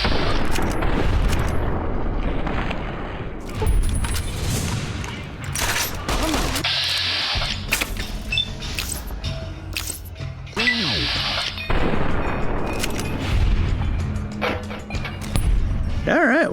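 Gunfire in the video game Fallout: New Vegas, dense bursts of shots, booms and impacts running throughout amid game music and effects, with someone talking over the action.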